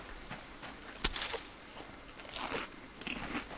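Someone bites into a raw potato in the survival game Subsistence, giving a sharp crunch followed by several softer chewing crunches, close and fairly quiet, with no talk.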